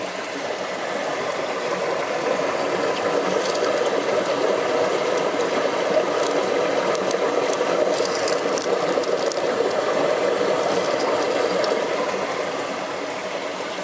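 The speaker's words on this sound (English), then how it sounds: "Wow, I think that's water. That's a lot of water." Rushing water echoes through a cave near Shangri-La Arch at Carter Caves in Kentucky, a loud, constant broadband roar holding steady for about fourteen seconds with no voices.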